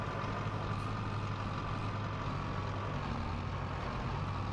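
A logging vehicle in Farming Simulator 22 rolling over trees, a steady loud engine drone with a constant low hum and broadband rumble, no talk.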